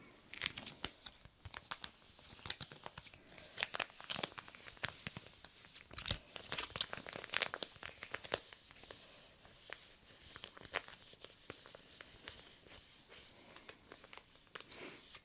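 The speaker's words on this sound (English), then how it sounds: "That's just crinkling, as was the chocolate" Dense, continuous crinkling and rustling of packaging, like crumpled wrappers, with sharp crackles and tearing-like bursts scattered throughout and no voice.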